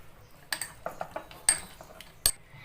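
A spoon stirring homemade glue slime in a bowl: a few sharp, separate clinks and scrapes spaced irregularly, close and fairly faint over quiet.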